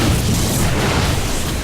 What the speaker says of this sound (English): Those cannons ripping through the shields.